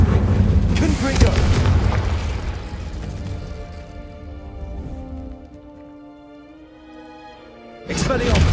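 Confringo explosion spell in the video game Hogwarts Legacy: loud, heavy booming blasts for the first few seconds fade to a low rumbling tail, then a sharp new blast hits near the end.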